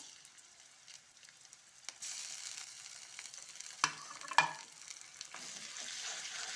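Ginger garlic paste stir-fries in a pan, a quiet sizzle that grows louder partway through, with a couple of sharp clinks and scrapes from a stirring utensil close by.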